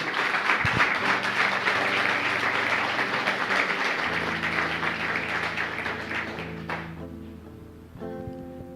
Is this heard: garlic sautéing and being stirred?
no